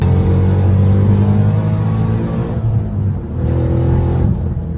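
A 2014 Ford Shelby GT500 engine rumbles loud and close with a deep, steady growl, dipping briefly as the revs fall and then building back up before easing off.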